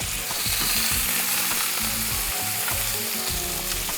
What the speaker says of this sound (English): we'll sear the second side for about 2 to 3 minutes